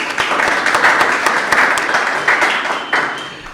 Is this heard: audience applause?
yes